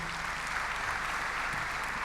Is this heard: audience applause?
yes